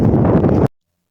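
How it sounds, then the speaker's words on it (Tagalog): Strong wind off the sea at a seaside boulevard in Albay buffets the microphone in a loud, rumbling gust that cuts off abruptly to silence after about two thirds of a second. "sobrang lakas ng hangin dito sa dagat"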